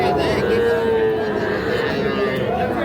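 Cattle low and moo at a busy livestock market selling young bulls and heifer calves, a long drawn call standing out over crowd noise and a steady murmur of other animals and people.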